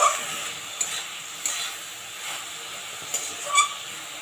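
A heron flower and prawn curry is stirred in a pan over a high gas flame, giving a soft continuous sizzle with scattered light spatula scrapes and taps, no voices.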